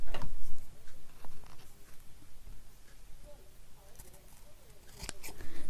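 Scissors trim ribbon after a knot is tied, sharp snipping clicks at the start and again near the end amid handling rustle, with a person speaking in between.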